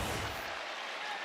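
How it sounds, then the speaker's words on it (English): Basketball arena crowd in Lincoln roaring and cheering during a Nebraska home game, a dense broad wash of noise that stays loud for about a second and a half. "Buchtengel getting this crowd fired up in Lincoln"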